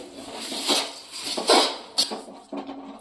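Puffed rice is stirred in a pan with a metal spoon on a low flame while crispy chikki is made. Close scraping and rustling strokes come in several irregular bursts, with light clinks against the pan.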